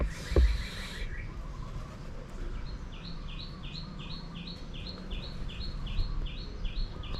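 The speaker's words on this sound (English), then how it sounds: "Birds flying by." Birds chirping outdoors at sunrise in Thailand, where a short burst of calls is followed by a regular series of repeated high chirps over quiet ambient background noise.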